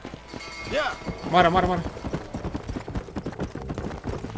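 In the Red Dead Redemption video game, a horse gallops with a quick, steady clip-clop of hooves throughout, and someone speaks over the hoofbeats.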